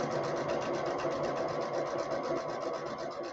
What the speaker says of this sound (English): So you're just gonna sew this down